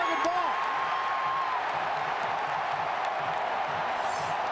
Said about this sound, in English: And this crowd is right back in it